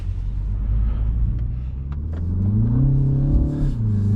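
A 2025 MINI JCW Hatchback with a dual-clutch gearbox in sport mode revs up and pulls away on a mountain road, its pitch climbing and settling through a gear change, loud and close.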